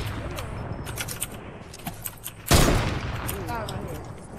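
A single loud burst of gunfire from a video game, fired at a zombie, cracks out midway and fades into a short tail, with voices talking through the moments before and after.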